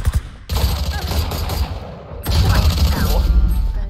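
Rapid bursts of gunfire from the game Valorant, loud and continuous, with a brief lull before the shooting resumes.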